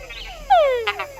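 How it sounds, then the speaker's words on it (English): A single loud Tangara frog call, a descending whistled croak with a rough buzzy tail, heard close and clear with quieter calls in the background. "the croaks and calls of Tangara frogs"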